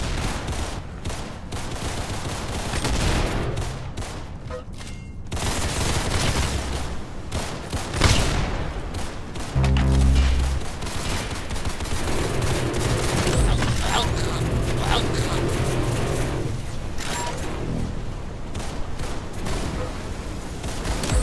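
Gunfire in the Roblox Arsenal shooter game, with dense rapid bursts and repeated shots filling the whole stretch, loud and continuous, one heavier boom partway through, layered with game effects.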